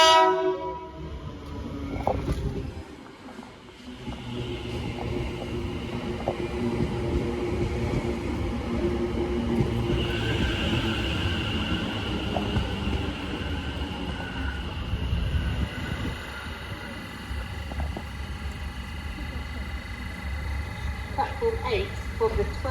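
A train runs at Barking station in London: a rumbling run with rail noise, screeches and horn-like tones. Platform announcements and voices come in over it.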